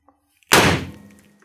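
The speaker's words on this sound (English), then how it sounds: "Now this is Confetti Cannon, and this is made by Amscan." Amscan confetti cannon firing: one sharp, loud bang-like pop after near silence, with a short bright burst that decays over about a second.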